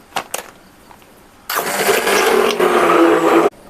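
An electric mixer whirs through an oil soap mixture made with pomegranate, its motor starting abruptly after a quiet moment and running loudly and steadily for about two seconds before cutting off.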